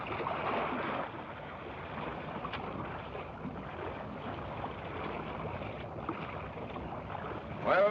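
A small boat heading out across water toward a salvage ship: a steady, muffled motor and water wash with wind noise, continuous and moderately close, no voices.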